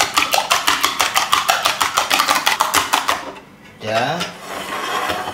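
Two eggs are beaten in a bowl with a fork or whisk, giving a rapid run of evenly spaced, sharp clicking strokes close up, followed by a brief pause and softer scraping.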